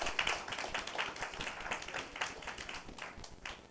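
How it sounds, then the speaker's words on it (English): A church congregation claps together as a praise offering at a Christmas Eve service, the steady, fairly soft clapping lasting a few seconds in a reverberant sanctuary. "Let's give a clap offering to the Lord today"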